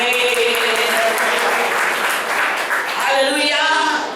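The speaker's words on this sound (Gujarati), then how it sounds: "તાળી પાડી" A church congregation claps during a Sunday worship service, a loud, dense wash of hands lasting several seconds, with some voices and tonal sound rising toward the end.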